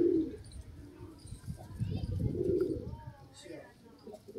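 Pigeon cooing from a bird perched on a house rooftop, a few soft repeated low coos under nearby talking, with faint chirps from other birds in the background.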